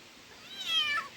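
A wet kitten just out of a bath gives a single rising-falling meow, close and fairly loud, with no voices around.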